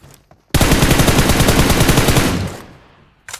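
Automatic gunfire in the mobile battle-royale game PUBG Mobile: a loud, close, sustained burst of rapid shots lasting about two seconds, followed by a brief final shot after a pause.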